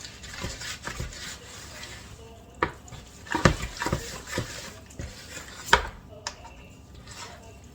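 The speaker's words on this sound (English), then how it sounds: "I'll go ahead and give that a stir." Spoon stirring pistachio pudding mix with pineapple juice in a bowl for Watergate salad, a series of irregular scraping clinks and knocks against the dish, close and moderately loud.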